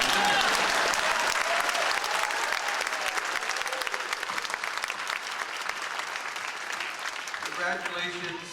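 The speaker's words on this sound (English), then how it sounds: "You can applaud." A large crowd at a fall commencement ceremony breaks into loud, sustained applause that fills the space and slowly thins toward the end.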